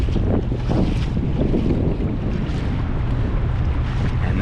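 Strong wind gusting across a lake spillway, a steady, loud broadband roar that buffets the microphone throughout with no voices.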